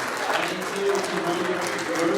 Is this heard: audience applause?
yes